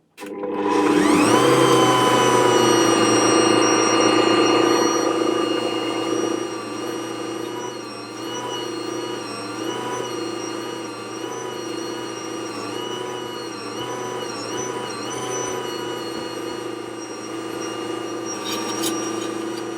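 An Ankarsrum mixer spins up and runs steadily while mixing hot cross bun dough, a loud sustained motor whine with a tonal hum that wavers slightly as the dough is worked.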